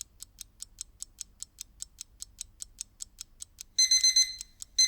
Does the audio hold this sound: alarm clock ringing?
yes